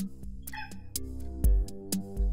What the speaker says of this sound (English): She's Jim's cat.